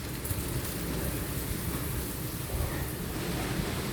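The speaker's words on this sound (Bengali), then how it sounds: "খুবই ভয়ঙ্কর ভাবে ঝড় শুরু হয়েছে, সাউন্ড শোনা যাচ্ছে।" A violent storm with rain and thunder sounds as a steady wash of rainfall with deep low rumbles underneath, fairly close and continuous, with no speech.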